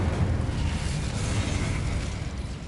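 Incendio fire spell cast in the Hogwarts Legacy video game, a dense, steady roaring whoosh of flame with a heavy low rumble throughout, no talking.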